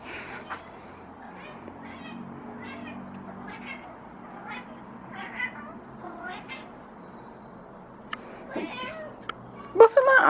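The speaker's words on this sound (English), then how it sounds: "The cat's here again." A cat meows several times at close range in a home, its short calls scattered under a person's cooing talk, with a louder cry near the end.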